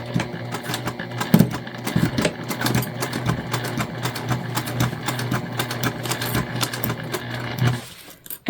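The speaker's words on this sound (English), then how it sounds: "now we're going to stitch our corners." A sewing machine runs steadily, stitching the corners of a fabric gift bag over a bulky flat seam, a continuous close mechanical whir with rapid needle clatter that stops abruptly near the end.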